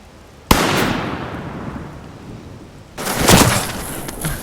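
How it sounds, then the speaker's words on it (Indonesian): Gunshots in a film scene: a sharp loud blast followed by a long decaying echo, then a second burst of cracks and rumble a few seconds later. "Namun, tiba-tiba Vice kembali melepaskan tembakan ke arahnya."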